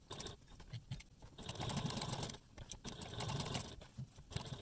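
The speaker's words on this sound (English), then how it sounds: "side and top stitch at a 1/8 seam allowance around the other 3 sides of the zipper cutout" A sewing machine top stitching around a zipper cutout on a crossbody bag, its motor whirring in a few quiet, uneven bursts with brief pauses between runs, close but faint.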